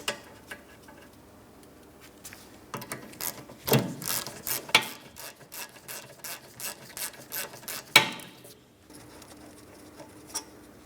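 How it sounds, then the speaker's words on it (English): Rapid clicking of a 14mm ratchet loosening the brake caliper slider mounting bolts on a 2011-2026 Mitsubishi Outlander, bursts of close ratcheting ticks with pauses between them. "we're going to remove our two caliper slider mounting bolts first. I'm using a 14mm for each of these."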